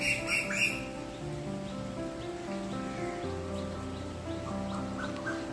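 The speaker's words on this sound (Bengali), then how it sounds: "ছোট পাখির ডাক শুনতে পাচ্ছ তো?" Small birds chirp faintly outside during rain, with scattered short calls over a soft background of rainfall and some low tones.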